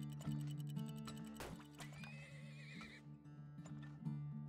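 Horses in the video game Turmoil give a clear neigh and whinny over steady clip-clopping hooves and light game ticking, with a quiet musical background underneath.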